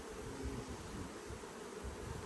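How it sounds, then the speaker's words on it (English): Honeybees swarm around an opened hive during an inspection, a steady dense buzz from many insects close by, constant and even throughout with no voices. "It's like a beard of bees."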